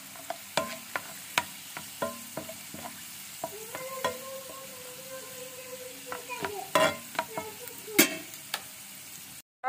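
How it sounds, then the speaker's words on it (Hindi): Hot tempering for mixed masoor and moong dal sizzles and spatters while being stirred, with repeated clattering utensil knocks and a steady frying hiss throughout, fairly close. "फिर इसके बाद जो है वो दाल में तड़का लगा देंगे।"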